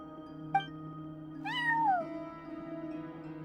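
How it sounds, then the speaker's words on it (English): A cat in the Genshin Impact video game gives two meows, a brief chirp followed by a longer falling meow, clear and close over a soft steady musical drone. "cat watching over the front desk. Excuse... meow?"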